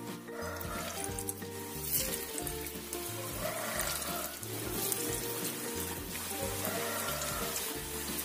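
Balls of rice vermicelli dough deep-frying in oil over medium heat give a steady, fine sizzling crackle, constant and close, under soft background music.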